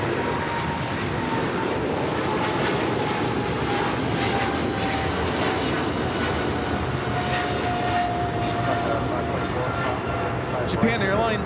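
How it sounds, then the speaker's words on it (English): A Japan Airlines Boeing 777-300ER takes off for Tokyo Haneda, its engines roaring loud and continuous with a faint rising whine, a sharp click near the end. "Japan Airlines Flight 15 taking off to Tokyo Haneda on the 777-300ER."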